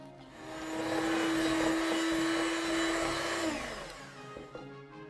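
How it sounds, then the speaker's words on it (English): An electric mixer running on high whips a batch of royal icing, a steady loud motor whine that holds evenly for several seconds, then winds down and cuts off near the end. "I'm gonna put the electric mixer on high, and we're gonna mix it for maybe 5 minutes."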